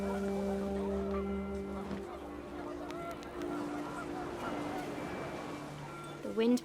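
Panicked geese in the video game What Remains of Edith Finch, honking calls over a sustained tonal drone, moderately loud with a louder honk at the end, under a speaking voice.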